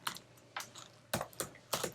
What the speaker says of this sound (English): To reduce the typing noise